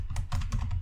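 Keys clatter in a quick burst of typing on a computer keyboard as code is entered, close and fairly quiet, with several distinct keystrokes.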